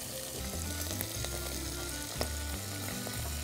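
Minced garlic fries in very hot fat, giving a steady close sizzle with faint crackles throughout and a brief stir or clink near the middle, with no talk.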